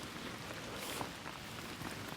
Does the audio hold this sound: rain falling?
yes